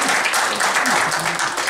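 Applause from the audience at a Daegu citizens' forum on the new southern regional airport, a steady dense wash of clapping from start to finish, with some faint voice-like tones mixed in.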